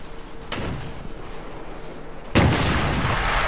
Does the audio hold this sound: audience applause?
no